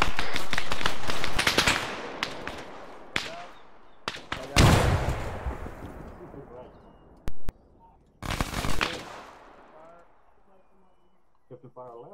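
Rifle fire in Arma 3 during an infantry section assault on a trench: loud close bursts and single shots, sharp cracks with long reverberant tails, with radio voices talking between them.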